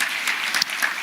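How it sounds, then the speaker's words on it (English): An audience at a morning corporate health insurance event applauds, a brief dense patter of many hands clapping at moderate volume. "Can we clap for the team doing this"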